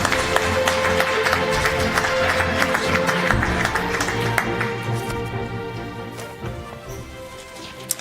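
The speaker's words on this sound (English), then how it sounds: "Would you give her a round of applause" Conference audience applause for a speaker at a China–EU green policy event: a sustained crackle of many hands clapping that gradually thins and fades toward the end, with a low hum underneath.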